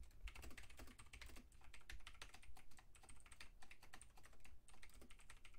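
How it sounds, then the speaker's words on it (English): A computer keyboard typed on steadily and rapidly, a dense run of fast, close clicks that carries on without a break, with no speech over it. "Let me type that out."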